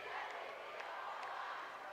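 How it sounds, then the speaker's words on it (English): Crowd at a high school basketball game in Buffalo Center, Iowa, cheering for their team after a 70-67 finish, a steady broad roar held at a distance with no clear peaks. "There's the Indian crowd cheering on their team"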